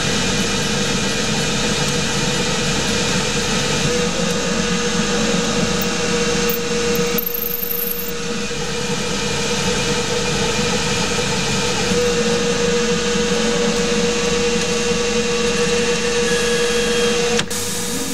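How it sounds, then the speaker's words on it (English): A freshly resharpened drill bit bores into the head of an M20 bolt held in a lathe, giving a steady machining drone and grinding hum that runs continuously, with a brief dip midway and no talk. "Now this is the same drill after I've sharpened it, not very well, but it's only drawing 4 amps I think instead of 5"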